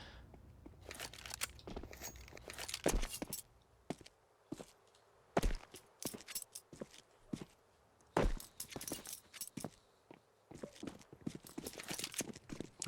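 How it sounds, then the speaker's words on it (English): Footsteps in a Counter-Strike match, a run of brisk, irregular thudding steps with hard transients, fairly close and moderately loud, with short pauses between bursts and no talk. "Now he hears the thundering of the footsteps."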